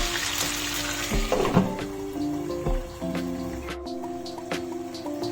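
Chicken frying in oil in a covered pan, a steady sizzle and crackle running throughout with a few louder pops and faint clinks; no voices.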